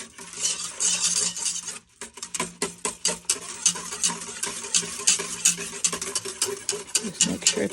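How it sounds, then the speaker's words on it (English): A whisk clatters rhythmically against a bowl while sweetener is worked into homemade yogurt, a quick run of close metallic taps and scrapes with a short pause near the two-second mark. "And then I'm going to whisk it in"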